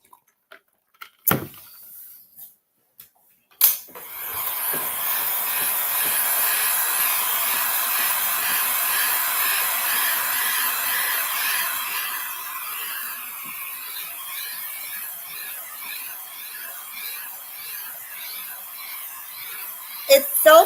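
Hair dryer blowing on a craft project at an art workshop, a steady loud broadband rush running about sixteen seconds after a few brief knocks, its tone shifting slightly partway through, then a couple of clicks at the end.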